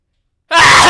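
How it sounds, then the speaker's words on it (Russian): A single sudden sneeze from a man, bursting out loud and close after a moment of silence and cutting off right at the end. "Сейчас чихну."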